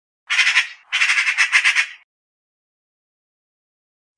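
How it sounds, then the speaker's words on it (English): A magpie gives two quick bursts of harsh, rasping squawks, the second longer and rattling, loud and close against silence. "Magpie."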